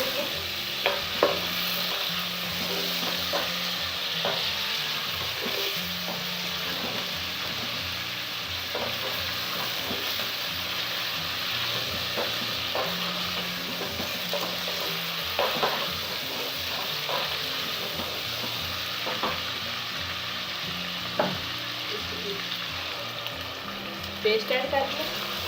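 Chicken pieces frying in a pan for an aloo chicken curry, a continuous crackling sizzle with occasional stirring scrapes and pops, moderately close and steady throughout, no one speaking.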